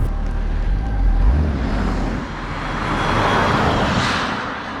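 A Toyota hydrogen fuel cell car pulls away in drive with regenerative braking on, giving a steady whirring hum under low road rumble with a faint high electric whine that rises slightly as it moves off.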